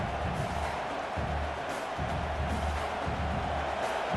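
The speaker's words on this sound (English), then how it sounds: "This crowd knows they have to bring it in big moments" Stadium crowd in the College Football 26 video game keeps up a steady, broad roar of cheering and noise for the whole stretch, with no clear talk over it.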